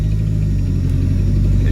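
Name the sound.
Dodge Neon engine with an exhaust leak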